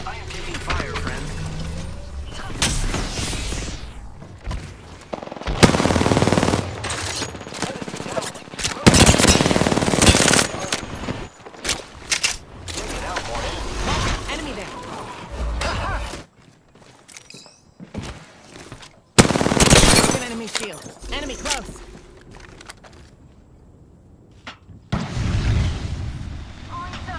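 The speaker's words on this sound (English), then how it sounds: "I'm getting shot." Gunfire rips through an Apex Legends match as the player comes under attack, with dense bursts of automatic shots mixed with footsteps and game effects in a loud, shifting soundscape.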